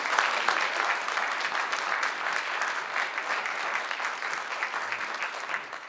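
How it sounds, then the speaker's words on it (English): A full audience applauds steadily and loudly for about six seconds, a dense wash of clapping from many hands, at a National Hunger and Homelessness Week event honoring Dr. Richard White. "Please give another round of applause to Dr."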